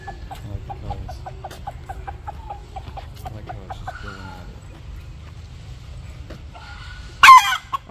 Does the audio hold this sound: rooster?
yes